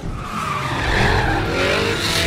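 A race car skids in the video game Need for Speed: The Run, a loud sustained tire squeal sweeping in pitch over a throaty engine roar.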